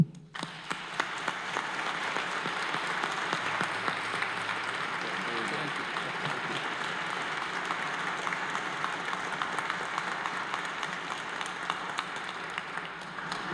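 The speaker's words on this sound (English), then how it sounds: "Greet him with your applause." Church congregation at a parish dedication applauding their new pastor, a steady, dense round of clapping from a large crowd that lasts throughout without voices.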